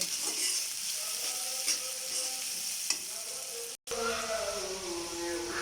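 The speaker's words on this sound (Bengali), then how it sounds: "পেঁয়াজটা সুন্দর করে ভাজি করে নেব" Chopped onions fry in hot oil in a wok, a steady close sizzle with a few stirring scrapes and no talking.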